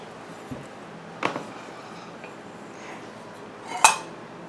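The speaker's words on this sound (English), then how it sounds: "I got this neat Berggren coffee pot." A Berggren coffee pot being handled, with a few scattered metallic clinks and knocks, the sharpest and loudest one near the end, close by in a quiet room.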